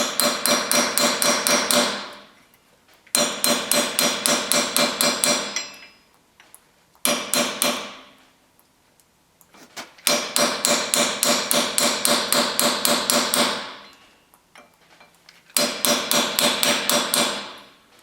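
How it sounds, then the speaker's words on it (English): Rapid metallic hammer blows on a chisel against a Chevrolet Tahoe's front wheel dust cap come in five dense bursts with short pauses between, loud, sharp and close. "Just using a hammer and chisel."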